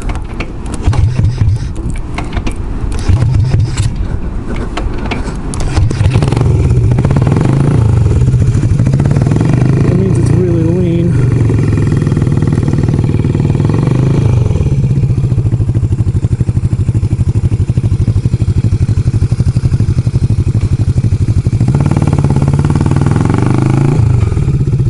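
A motorcycle engine runs loud and close, sputtering and clattering, then settles into a rough, uneven idle that bogs and surges without smoothing out.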